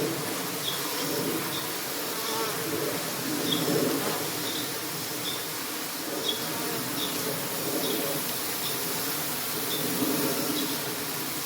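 Honey bees swarming around an open beehive during beekeeping, a dense, steady buzzing drone close by, with a soft periodic chirp-like tone recurring in the background.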